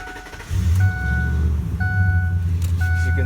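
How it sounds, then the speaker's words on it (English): A Ford F-250 pickup truck engine starts and settles into a steady, loud idle, with a faint repeating chime sounding over the running engine. "So now let's start the truck."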